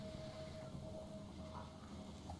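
Train passing in the zombie strategy game They Are Billions, a steady low rumble with a rolling rail-car texture that holds at constant loudness throughout, faint and continuous beneath the game's ambient mix.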